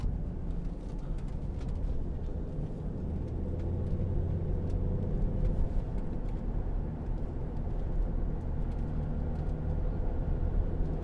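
A 2009 BMW X6 30d xDrive SUV cruising on the road, heard from inside as a steady, continuous low rumble of engine and road noise with no talking.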